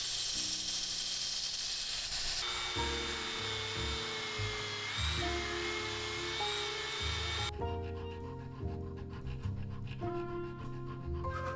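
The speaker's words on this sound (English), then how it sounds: "I rough profile them on the belt sander and with the Dremel." Belt sander and Dremel rough-profiling steel slip joint knife blades and springs: a continuous whirring grind with shifting pitch as the metal is pressed and moved, steady and close, with no talking.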